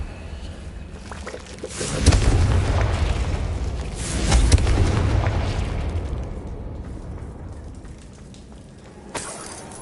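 Two booming Confringo spell explosions in Hogwarts Legacy, each a loud burst with a rumbling tail, the second a few seconds after the first, then a smaller pop near the end.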